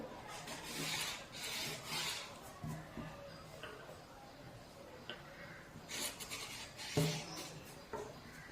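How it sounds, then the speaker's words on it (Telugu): Pencil drawing pattern lines on paper for blouse cutting, heard as close, repeated rubbing strokes with brief pauses between them and a soft tap near the end. "ఇప్పుడు ఈ లైన్స్ ని డ్రా చేసుకుందాం"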